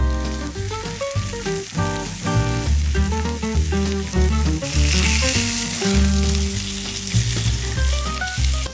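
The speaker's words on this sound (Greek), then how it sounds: "Το τηγάνι ζεστάθηκε, ξεκινάμε πρώτα από την πλευρά που έχουμε βάλει τα πιπέρια και είναι η πλευρά από το χοιρινό που έχει το περισσότερο λίπος." A pork cut searing fat side down in a hot pan, its peppered side first, makes a loud, rushing sizzle that swells partway through, heard beneath prominent melodic background music.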